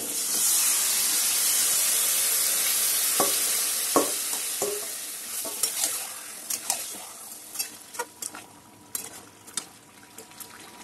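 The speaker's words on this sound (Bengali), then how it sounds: "পনেরো মিনিট পরে মাটনটা রান্না করছি" Mutton for a Bengali curry sizzles and hisses loudly in a hot pan at first, then the hiss settles as a spoon stirs with scattered clacks and scrapes against the metal.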